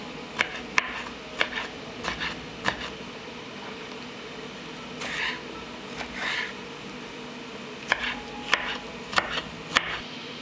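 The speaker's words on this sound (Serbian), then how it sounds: "sada ću iseći jednu crvenu papriku" A knife cuts a red bell pepper into cubes on a board, giving sharp, irregular chopping taps, sometimes in quick clusters, over a quiet kitchen background.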